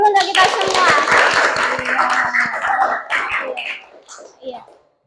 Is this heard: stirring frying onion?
no